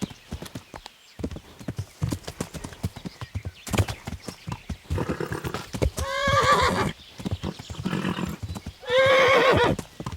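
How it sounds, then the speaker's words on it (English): A horse in the video game Kingdom Come: Deliverance gallops with rapid, loud hoofbeats, then lets out two long, close whinnies, one midway and one near the end. "You could have just galloped a little further, you know, for me. Be a good horse."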